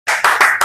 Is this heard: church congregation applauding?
yes